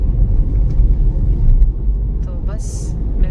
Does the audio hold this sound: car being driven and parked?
yes